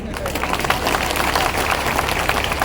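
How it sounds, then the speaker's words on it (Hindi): A crowd claps at a public thank-you meeting in Ashoknagar, a loud, dense burst of applause sustained throughout, with a faint murmur of voices mixed in. "अभी भी ताली कम होगी,"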